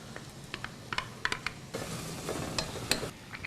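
Carrot, celery, onion and potato stir-fried in a pan, a steady sizzle broken by a run of sharp utensil scrapes and taps at an uneven rhythm, close and moderately loud with no talking.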